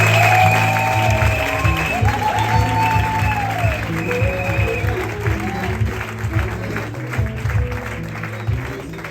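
A church congregation claps steadily and loudly to acclaim the Lord at a Sunday service, with music playing underneath the sustained applause.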